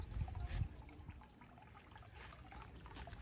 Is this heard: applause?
no